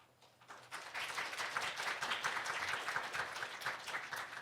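A Sunday worship congregation breaks into warm applause for a departing minister receiving flowers and gifts, the clapping swelling quickly after a quiet start and holding steady as a dense, continuous patter across the hall.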